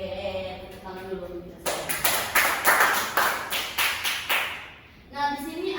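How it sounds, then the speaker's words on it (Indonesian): A classroom full of students claps hands together for a few seconds, with a burst of loud, rhythmic applause close by between stretches of background chatter. "Oke, tepuk tangan dulu."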